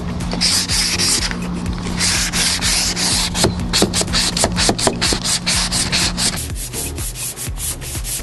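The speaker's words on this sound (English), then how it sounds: "And you never want to just sand in one direction." Hand sanding across a damaged auto body repair area on an RV, with continuous close scratchy rubbing and a series of quick, sharper back-and-forth strokes, no talking.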